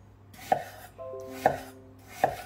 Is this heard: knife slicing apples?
yes